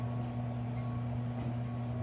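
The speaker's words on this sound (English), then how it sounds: "Also a UP train." A Union Pacific train passes with a steady, droning low rumble and hum that holds at an even loudness throughout.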